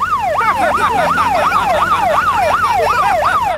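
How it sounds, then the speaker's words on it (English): A loud wailing siren sweeps up and down in rapid, regular cycles, close by, with traffic rumbling underneath. "can we do the siren?"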